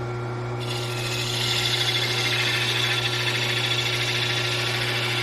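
A spindle roughing gouge cuts into a pear-shaped piece of wood spinning on a wood lathe, a steady scraping, rasping hiss over the motor's constant low hum that thickens after the first second and holds, close and fairly loud, with no talk.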